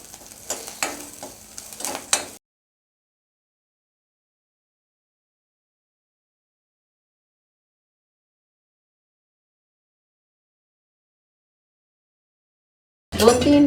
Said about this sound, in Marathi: असे थोडे कारा लसूण भाजून घ्यायचे